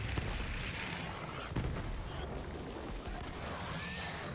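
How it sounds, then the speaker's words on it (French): Grenade blast in the video game Borderlands 3, a dense, continuous wash of booming and crackling combat noise that stays loud throughout with no clear separate explosions. "Grenade."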